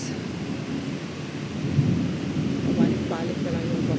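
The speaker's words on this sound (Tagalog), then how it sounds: "It's kumikidlat na naman dito sa labas." Rumbling thunder rolls through a rainy night thunderstorm outdoors, a steady low roar with swelling peaks, and a faint voice murmurs once beneath it.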